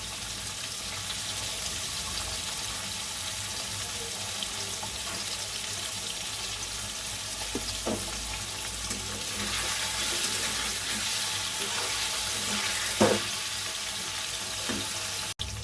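Paneer fries in a pan with a continuous, even sizzle that hisses steadily throughout, broken by a few faint clinks and scrapes of turning, with no voices.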